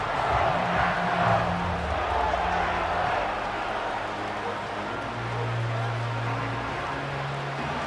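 Simulated stadium crowd in the Madden 25 football video game, Eagles versus Packers, roars steadily and loudly as fans build up before third and goal, with low droning tones running beneath the constant wash of noise.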